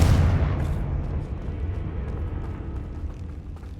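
A Confringo blasting spell explodes in the Hogwarts Legacy video game: one sharp, loud blast up front that trails off into a long, rumbling decay with crackling debris and no voices.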